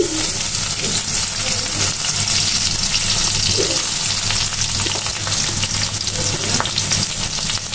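Onions sizzle steadily in hot oil for tempering, a loud, continuous frying crackle with faint clinks in the background and no speech.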